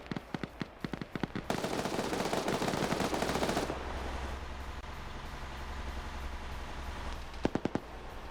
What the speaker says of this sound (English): That was Lolo also shooting at Capwell